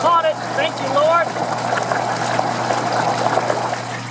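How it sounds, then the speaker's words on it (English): A failing sump pump runs but only swirls the water in its pit, giving a steady wet churning and trickling under a constant low hum, with a faint voice early on. "It's pumping, but mostly just swirling the water around."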